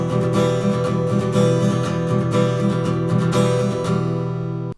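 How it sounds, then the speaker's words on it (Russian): An acoustic guitar strummed loud and close in the fast galloping rhythm, with dense driving strokes played without pause for a few seconds before the chord is cut off abruptly. "Ну а быстро это звучит так."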